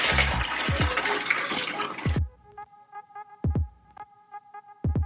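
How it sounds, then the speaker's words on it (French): Detox juice pours through a strainer into a container in a loud, rushing stream for about two seconds, then stops abruptly, followed by a few sharp clinks and taps. "je vais mettre juste le filtre par-dessus, la passoire par-dessus et je vais juste filtrer"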